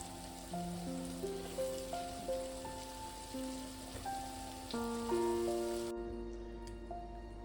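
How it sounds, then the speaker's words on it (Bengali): Spicy chicken wings frying in hot oil give a steady, hissing sizzle that runs beneath sustained background music, then stops abruptly near the end. "এগুলো আমি ভেজে আপনাদেরকে দেখাচ্ছি।"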